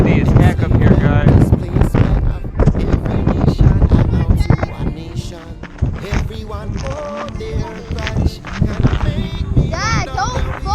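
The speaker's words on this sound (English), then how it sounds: "It's windy as heck up here, guys." Strong wind on a hilltop buffets the microphone in loud, continuous rumbling gusts, with faint voices and scattered movement sounds underneath.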